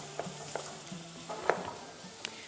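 Meat frying in a pan for Ashtarak-style bozbash, a soft continuous sizzle with occasional crackles and pops, quiet and close, with no talking.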